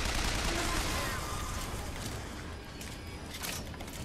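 Enemy gunfire in BioShock Infinite, rattling as rapid, fairly faint shots mixed into a dense, noisy combat soundscape.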